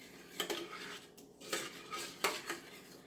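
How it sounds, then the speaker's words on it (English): A spoon stirring Parmesan cheese into a Palomino sauce for rigatoni rigate, with three bursts of metallic scraping and clinking against the pot, close and fairly quiet. "So now I'm going to add the Parmesan cheese. I'm going to stir that in real good."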